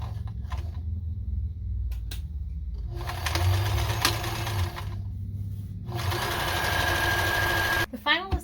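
A sewing machine stitches fabric for a bag in two bursts of about two seconds each, separated by pauses. Low hum and handling noises run between the bursts, and a quiet voice may be present.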